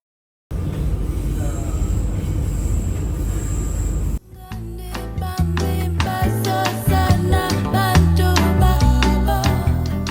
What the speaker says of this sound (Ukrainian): Сьогодні був перший тоді експірієнс на метро в Парижі.